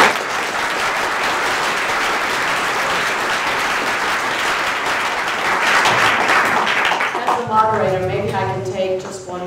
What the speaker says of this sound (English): So let's give a round of applause to our